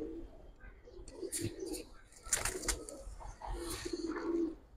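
A Giribaz pigeon coos in several soft, throaty bursts close by, with faint background noise between the calls.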